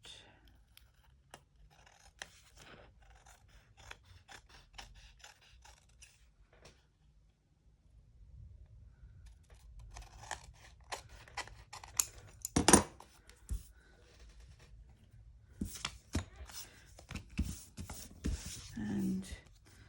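Scissors snipping paper for a junk journal, a run of short crisp cuts with brief pauses, close and moderately loud, with rustling paper handling between snips.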